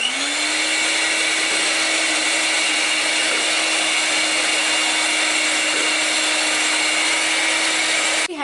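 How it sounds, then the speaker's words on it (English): An electric hand mixer runs continuously as it blends cocoa powder into cake batter for a layer cake, a loud, steady motor whine close by that stops abruptly at the end. "2 tablespoons of cocoa powder for preparation of my birthday special layer cake, and mix it well with electric hand grinder."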